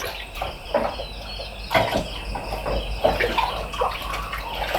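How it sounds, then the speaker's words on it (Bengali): Water splashes and pours into a pan of small-fish curry cooking with tomato, a steady wet rush with a few louder surges, kitchen clatter around it. "তো এখানে আমি পানি দিয়ে দিলাম জুলের জন্য মানে একটু পাতলা পাতলা জুল হবে"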